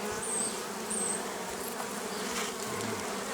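Honey bees buzz steadily around a beehive on an apiary, a dense continuous drone with individual insects passing close by, loud and unbroken with no talk.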